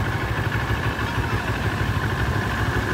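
A motorcycle engine runs steadily nearby, a continuous low throbbing idle with a faint mechanical clatter and no voices over it.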